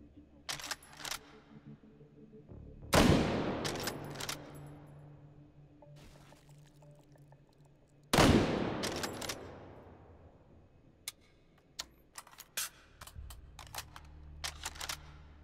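Two heavy, booming gunshots ring out in the VR shooter Hot Dogs, Horseshoes & Hand Grenades, each loud and close with a long rolling tail, separated by several seconds and followed by small mechanical clicks and handling taps.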